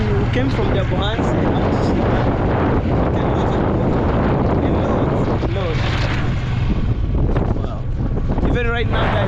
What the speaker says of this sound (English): I'm on my motorbike